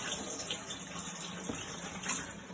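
Rice being rinsed under a running kitchen tap gives a steady, close hiss of flowing water with light splashing, continuing unbroken throughout with no voices.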